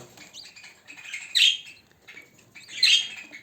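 Budgerigars in a breeding box with six chicks and an egg give two loud, harsh squawking bursts about a second and a half apart, with softer chirps and scratchy rustling between them and no talking.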